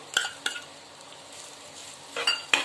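Dry fruits and grated coconut are sautéed in a pan for a Ganesh Chaturthi sweet filling, with a soft sizzle and a few sharp spatula scrapes and clinks against the pan.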